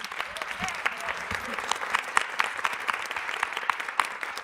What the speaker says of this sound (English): I do want to just give a quick round of applause to Charlie